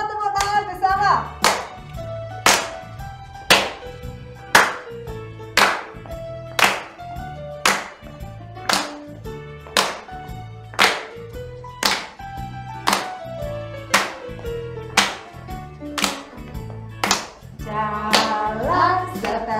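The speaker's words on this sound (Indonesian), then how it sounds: "Ya, kita mau tepuk tangan bersama." Children clap together in steady rhythm during a worship song at an online children's church service, sharp regular claps over a sung melody with voices throughout.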